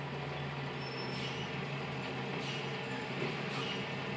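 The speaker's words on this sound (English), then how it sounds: "There's a trash truck in the distance. It's just driving on by." A trash truck passes at a distance, a faint, steady low engine rumble with a soft hiss or two of brakes.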